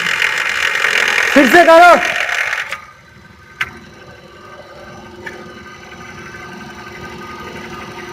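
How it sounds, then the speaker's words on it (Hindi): A car idling in reverse gear with an abnormal fault noise: a low steady mechanical hum with a couple of faint clicks, heard after someone speaks loudly over the engine at the start. "बैक गियर शिफ्ट करो, छोड़ो, क्लच छोड़ो। ये देखिए नॉइज आना आपका चालू हो गया।"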